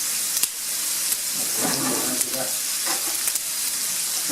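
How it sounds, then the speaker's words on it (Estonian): Salted meat slices fry in a pan with a dense, steady hiss and spattering crackle, broken by a few sharp clicks and scrapes. "Liha praeb, vesi keeb"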